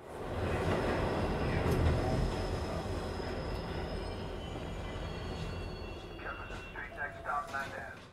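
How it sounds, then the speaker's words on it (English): A steady rumbling roar of a subway train's wheels rolling along the track, with faint squeals and clicks rising near the end. "the train's wheels moving on the track, the passing train on the left"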